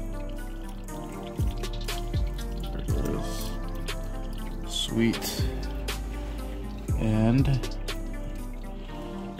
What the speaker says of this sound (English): just waiting for that oil to finish dripping.